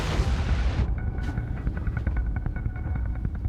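A torpedo strikes the port side of a ship in a naval wargame reenactment, a loud broadband boom that drops after under a second into a long rumbling tail with faint crackling debris, no voices.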